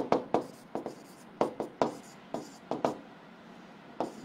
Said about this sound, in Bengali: একটু বাংলায় লিখি জিনিসটা